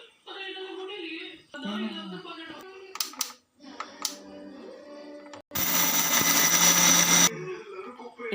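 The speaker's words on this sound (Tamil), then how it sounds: "ஒரு மிக்ஸி ஜாரில் பொரிகடலையும் போட்டுக்கிறோம்" A kitchen mixer grinder whirs loudly for a couple of seconds grinding roasted gram (pottukadalai) in a mixie jar, preceded by clinks, knocks and handling sounds of the jar and lid.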